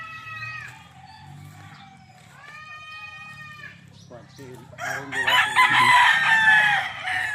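Fighting roosters bred for cockfighting crow in long drawn-out calls one after another, then break into a loud, dense burst of overlapping crowing and clucking near the end, with someone talking underneath.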